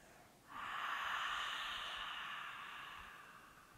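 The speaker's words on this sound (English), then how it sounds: "You're going to make a ha sound, constricting the back of your throat." One long breathy ujjayi yoga exhale through a constricted throat, a soft hissing ha sound that starts abruptly and fades slowly, close to the microphone.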